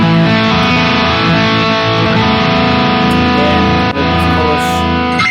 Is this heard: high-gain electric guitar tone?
yes